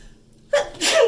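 A single sharp sneeze bursts out close and loud, alone, after a brief quiet moment.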